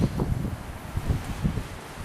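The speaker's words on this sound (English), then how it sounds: "Having a hurricane outside, so this is probably not going to sound great. Just too windy." Strong hurricane wind buffets the microphone outdoors, a continuous loud rumbling roar with gusty surges throughout.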